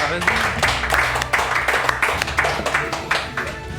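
A live audience claps steadily, a dense and continuous patter of many hands, with voices talking over it throughout.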